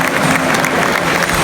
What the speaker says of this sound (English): I don't know why we're applauding them like we've won the game